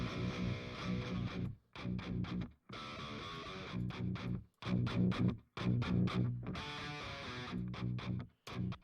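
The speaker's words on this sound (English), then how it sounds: "They're pretty meaty amp tones." Distorted electric guitar amp tones from a track, heavy chugging riffs in choppy bursts separated by short silent gaps, loud and alone with no talking.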